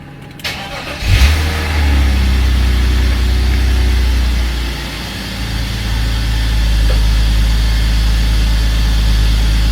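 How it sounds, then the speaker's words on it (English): A BMW car engine cranks and catches, surging in a loud rev before settling into a steady, close low rumble at idle, with no talking over it. "So I'm going to go ahead and turn on the car and see how she reacts"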